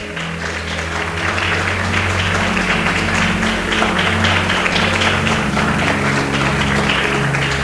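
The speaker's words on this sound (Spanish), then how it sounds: "puede darle un fuerte aplauso" Steady applause from a church congregation, dense and continuous clapping throughout with a low hum underneath, no voices.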